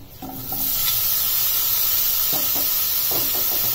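Mango pieces and red chili hitting a hot pan for chutney, a sudden loud hiss rising into a steady, close sizzle, with a few stirring scrapes along the way.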